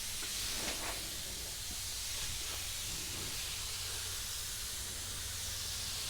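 Continuous, even hiss of a spray gun laying candy paint over a chrome and flake pattern, a dense airy spray that runs unbroken and fairly close.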